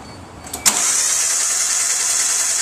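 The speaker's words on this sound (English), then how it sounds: "Why don't you go ahead and crank it over" Engine cranked over during a compression test, with a steady, sustained whirring hiss that starts abruptly after a brief click and continues evenly without firing.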